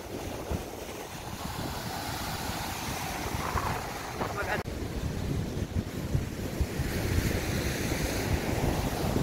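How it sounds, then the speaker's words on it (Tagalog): Big ocean waves breaking on a black sand beach, a continuous roaring wash of surf with heavy wind buffeting the microphone, faint voices now and then beneath. "Ang lalaki ng alon, grabe."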